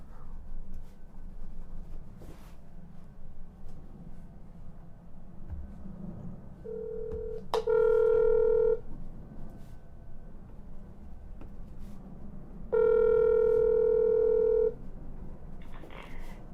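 A call placed to a county prosecutor's office in Ohio, with faint room hiss, a short dialing beep, then two long, loud ringback tones separated by a pause.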